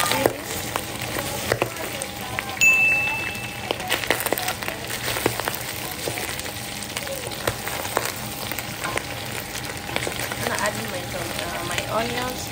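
Onions fry in a pan for a pork wet fry, a continuous crackling sizzle with scattered pops and stirring knocks, fairly close, under a dense background with faint voices.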